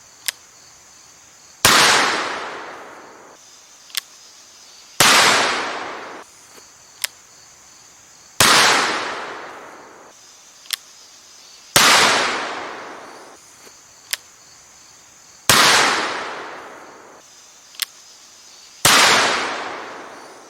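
Six loud gunshots from Little Joe's 1851 Navy revolver in the western Bonanza, fired at a slow, uneven pace. Each crack trails into a long echoing decay, and faint sharp clicks fall between the shots.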